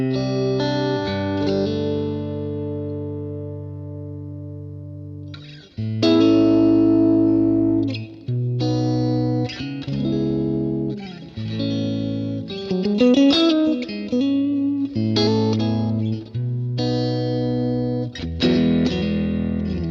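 Electric guitar played through a BOSS GX-100 modelling a Roland JC-120 Jazz Chorus amp, a bright clean tone: sustained chords and single-note lines ring out alone, with pauses between phrases.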